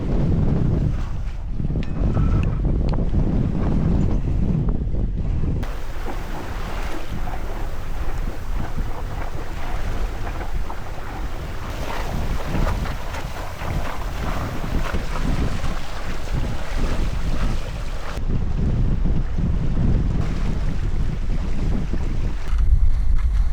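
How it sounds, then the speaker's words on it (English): A sailboat runs under sail alone with its motor off, on open water in the day's peak wind, with steady roaring wind buffeting the microphone and washing water along the hull throughout. "Finally got a good enough wind angle to just sail, get that motor off for a little bit."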